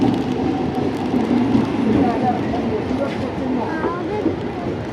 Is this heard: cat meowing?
no